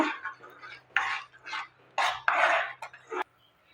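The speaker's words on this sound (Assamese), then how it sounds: "এইদৰে লাৰি থাকিব লাগিব, নহ'লে তলত লাগি ধৰিব" Spoon stirring a thickening sweet milk mixture in a pan on low flame, a series of soft scraping strokes in an uneven rhythm, close and fairly quiet.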